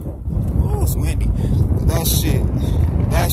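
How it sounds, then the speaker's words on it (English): Steady wind buffeting the microphone, a constant low roar with gusts, while a person talks over it. "Cause, ooh, it's windy."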